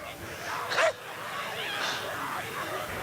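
A dog gives a short yip and then whimpers softly in a scene from the 2004 Dawn of the Dead, with faint rustling and background noise around it.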